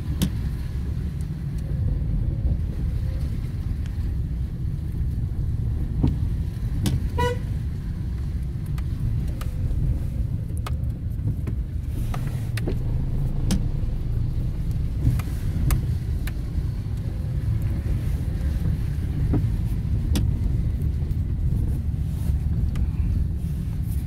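A car drives through town on a poorly cleared snowy road, a steady low engine and tyre rumble running throughout with occasional faint clicks and knocks, no talking.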